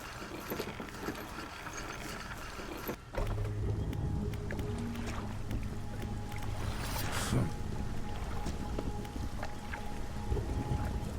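A fishing boat's powerful engine in the video game Dredge hums low and steady beneath splashing water and scattered game effects, a clear step up in rumble after a brief dip, with no speech.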